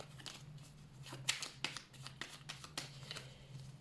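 A deck of oracle cards is shuffled and drawn close up, quiet rapid papery flicks and riffles in an irregular rhythm.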